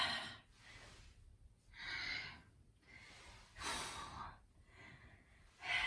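Heavy rhythmic breathing during a yoga workout, several forceful exhales and inhales in slow succession, close and fairly quiet with no talking over them.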